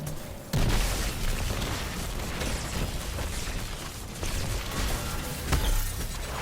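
A Pulse Grenade goes off in Destiny 2 with a sudden heavy boom, followed by a dense, rumbling crackle of continued blasts and energy noise that stays loud.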